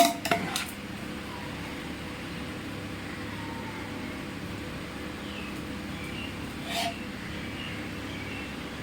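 A plate of chicken biryani is set down with a brief clatter of crockery and cutlery, and then a single soft clink comes later over a quiet steady room hum.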